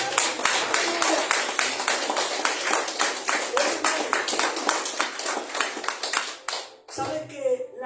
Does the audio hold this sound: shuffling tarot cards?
no